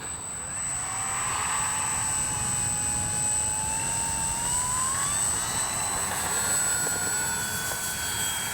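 An X-Fly Spitfire RC warbird model plane takes off with flaps down, giving a loud, steady motor drone with whining tones that rise and sweep in pitch throughout, and no talking.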